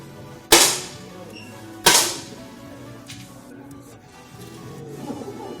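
Two sharp, loud gunshots ring out a little over a second apart at a shooting competition in a gold medal match, each with a quick decaying tail, followed by quieter ambient noise.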